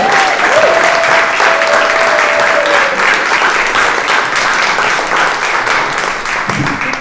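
Comedy club audience applauding and cheering as a comedian is introduced, loud sustained clapping filling the room from start to finish, with a brief whistle early on.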